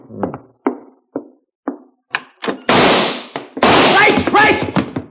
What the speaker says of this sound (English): there came a knocking at our door